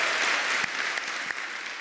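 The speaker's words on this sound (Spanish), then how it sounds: "Dale un fuerte aplauso a Dios esta mañana" A church congregation on a morning service gives a strong round of applause, a thick, continuous wash of many hands clapping at close range, steady throughout with no speech on top.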